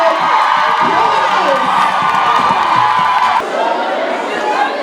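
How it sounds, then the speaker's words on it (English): An audience at the Afrika Tikkun Alumni Day 2019 event roars with loud, steady cheering and whoops, a continuous crowd din that holds for the whole stretch with only a slight dip near the end. "Can we give a round of applause for our Promise?"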